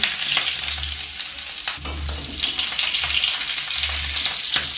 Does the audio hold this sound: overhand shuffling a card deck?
no